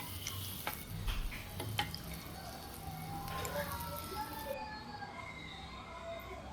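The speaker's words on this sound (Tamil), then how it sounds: "அது நல்லா பொன்னிறமாக கொஞ்சம் கலர் சேஞ்ச் ஆகிற வரைக்கும் வதக்கி விடுங்க" Onions or aromatics being sautéed and stirred in a pan for village-style mutton kulambu, a steady soft sizzle with scraping stir strokes throughout, fairly close and moderate.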